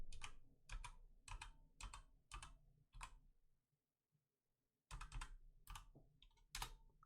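Fast bursts of clicky typing on a computer keyboard, close and crisp, in several quick flurries separated by short pauses, including a near-silent gap midway; no talking.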